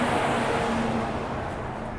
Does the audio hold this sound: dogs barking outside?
no